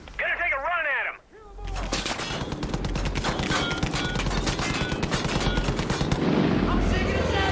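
Rapid bursts of Far Cry 5 gunfire, a dense rattle of automatic shots that starts after a brief voice and keeps going loud and close for several seconds, with voices partly under the shooting.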